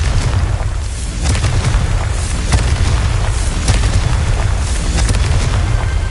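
Confringo blasting spell explosions in the Hogwarts Legacy video game, a steady run of deep booming blasts with sharp cracks and pops through a loud, continuous rumble.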